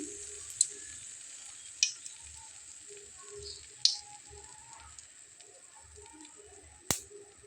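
Quiet frying of a potato-and-bread snack in hot oil, a faint sizzle with soft stirring, broken by four sharp clinks of a utensil against the pan, the last one loudest.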